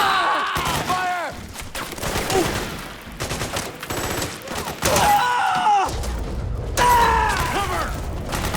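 Gunfire in the video game Metal Gear Solid 4, clattering bursts of automatic fire and mechanical rattles, loud and close, mixed with shouted voices.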